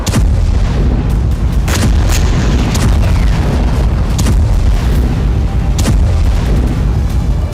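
Heavy explosions from a Russian FAB-500, a 500 kg guided bomb, in a war strike on Ukraine, loud booming blasts and rumbling bursts repeating through the whole stretch with no talk.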